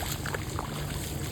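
Rainwater runs down a street like a stream during an unseasonal winter rain, a steady dense rushing and gurgling wash with no voices.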